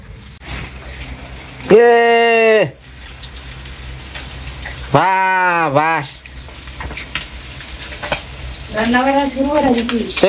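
Koi fish (climbing perch) frying in a pan, a steady sizzle running through the whole stretch while loud voices break in over it in short bursts.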